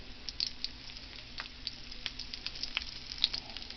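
Zucchini fries in a pan on medium heat, giving a soft, steady sizzle with scattered little pops and crackles, close and fairly quiet.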